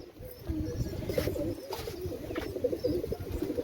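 Pigeons in a loft coo continuously, low throaty rolling calls overlapping from several birds close by, with no talk over them.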